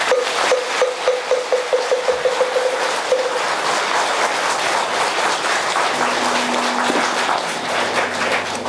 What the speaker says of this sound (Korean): 가슴에 와닿는 주옥 같은 훌륭한 말씀을 해주신 법사 선생님께 다시 한번 큰 박수를 부탁드립니다.